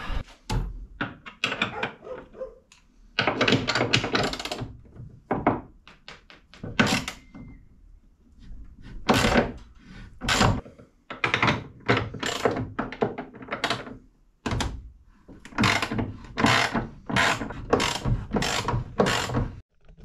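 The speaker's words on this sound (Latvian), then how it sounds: "Tagad ir jāatskrūvē 4 šitādas te skrūvas." Four screws are backed out with a ratcheting tool in repeated bursts of clicking, with clunks and pauses between them, up close and with no talking.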